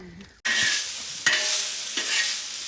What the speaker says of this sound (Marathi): कांदा मस्त पैकी भाजून घेतलाय हो